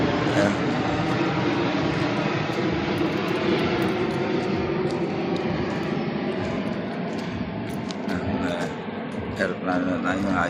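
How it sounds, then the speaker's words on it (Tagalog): Airplane passing overhead near a mangrove area in Bacoor, Cavite, a broad loud engine roar filling the whole clip and slowly easing, with people talking over it. "Aeroplano na tayo nakikita dito."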